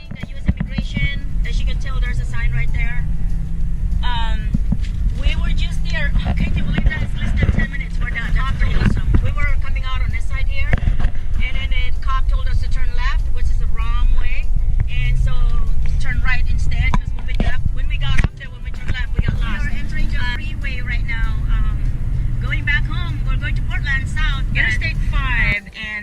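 Road traffic crawling bumper to bumper near the U.S. immigration area, a steady low engine and road rumble with wind buffeting the microphone, continuous throughout while people talk over it.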